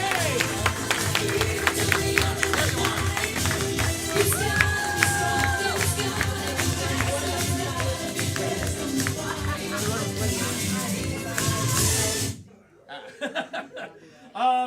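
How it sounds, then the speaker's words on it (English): A crowd cheers and laughs loudly with clapping mixed in, a dense sustained roar that cuts off abruptly, leaving a few scattered voices. "Clap for him. Show him the love, everybody."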